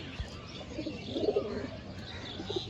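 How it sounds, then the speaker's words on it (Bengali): A khaki pigeon in a home loft gives soft, low coos, a brief cluster near the middle and another faint one toward the end, with light background noise and no talking. "এটা একটা খাকি কবুতর।"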